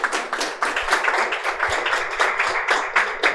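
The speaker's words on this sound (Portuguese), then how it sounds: "Dá uma salva de palmas aí pelo Richard." Steady applause from an audience at a Portuguese-language seminar on home buying, dense overlapping claps holding an even level for about three seconds with no voices on top.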